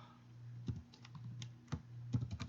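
Computer keyboard typing, a few quick keystrokes in small clusters, close and fairly quiet over a low steady hum, with no speech.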